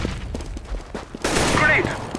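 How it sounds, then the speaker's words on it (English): A flashbang grenade goes off in a tactical shooter game, a sudden loud burst followed by a bright ringing hiss amid rapid gunfire clatter, with a voice talking beneath. "I'm throwing a flashbang."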